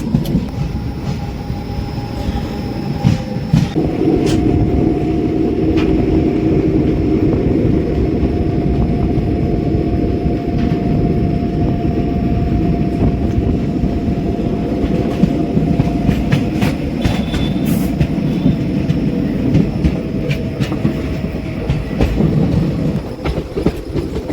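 The 16094 Gomti Sagar Express, running from Lucknow to Chennai, rolls toward Katol railway station with a continuous loud rumble, clickety-clack from the wheels and faint squeals, with no voices.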